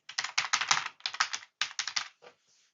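Rapid bursts of computer keyboard typing, close and crisp, arrive in quick clustered runs with short pauses before the keystrokes stop.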